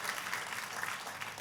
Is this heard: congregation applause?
yes